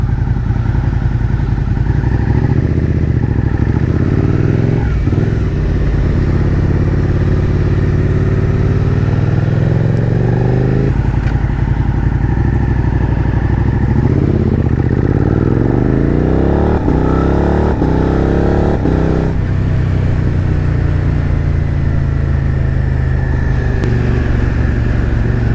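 A Suzuki SV650 motorcycle being ridden, its mid-pitched engine droning steadily and loudly throughout, with several rising rev sweeps as it accelerates through gears, plus wind and road noise.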